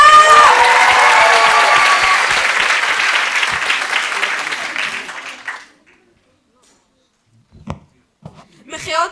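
A crowd claps and cheers for the first graduating class at a school graduation party, loud and dense at first, fading out after about five seconds, followed by near silence and a few faint sounds.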